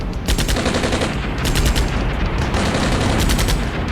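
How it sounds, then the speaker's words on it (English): An artillery bombardment on a fortified objective in the Cold War wargame Armored Brigade II rolls on as a loud, steady barrage, with rapid crackling bursts over a deep rumble and no voices. "Now I'm doing some final bombardments, all the rest of my artillery on that center objective that's supposed to be heavily fortified"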